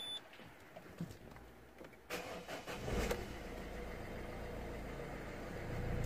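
A Citroen Berlingo 1.6 HDi diesel with a fault light on runs with its cooling fans at full speed; a click and a rise in sound lead into a loud, steady whooshing roar that builds and holds, close up, no speech.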